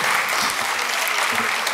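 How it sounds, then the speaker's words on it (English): A short, steady burst of audience applause at a public crime-prevention outreach event, many hands clapping together at moderate loudness. "he deserves another round of applause"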